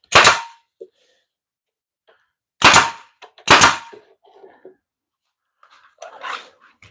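Air nailer driving nails into a wooden board in a woodworking shop: three loud, sharp bangs, the second and third close together, with small clicks and faint shuffling noises between them.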